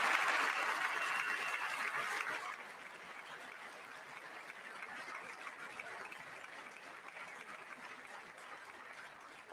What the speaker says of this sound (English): I wasn't sure if anybody even on this side was going to applaud for that.